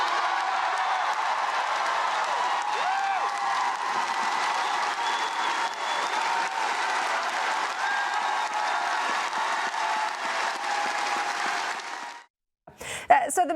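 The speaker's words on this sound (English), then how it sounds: "you see everyone standing up and cheering" A large crowd gives a standing ovation, sustained clapping and scattered cheers filling the room steadily for about twelve seconds before cutting off abruptly.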